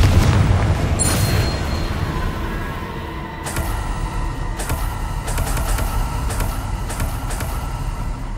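Fiery explosion spells in the Hogwarts Legacy video game, a heavy boom up front followed by a string of sharp crackling blasts and impacts, loud and alone without talk.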